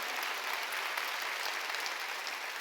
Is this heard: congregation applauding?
yes